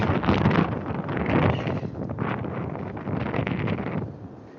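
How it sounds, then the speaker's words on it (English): Heavy wind buffets the microphone outdoors in Helsinki in rumbling gusts that swell and ease, loud and close, with no talking. "So it's very windy here. Yeah. Uh, and gusts of wind also."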